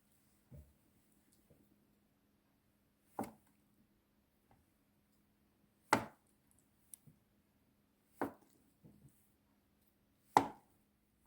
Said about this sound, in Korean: 두부는 3등분 해서 약간 도톰하게 썰어요